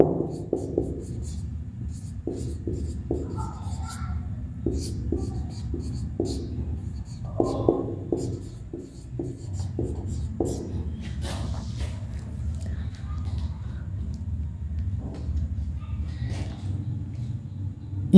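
Chalk or marker scratches across a classroom board in short repeated strokes, writing out a plant cell label, steady and close under a constant room hum.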